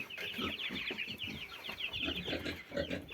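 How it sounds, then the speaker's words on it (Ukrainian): A flock of birds clucks and chirps continuously up close, a busy chatter of poultry with no talking. "Птицю вже привезли додому."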